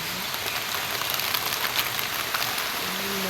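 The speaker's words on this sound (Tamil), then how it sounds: "வெளிய மழை." Rain pours outside a home kitchen where jackfruit fritters are being prepared, making a dense, steady hiss with scattered drips throughout. A faint low tone rises near the end.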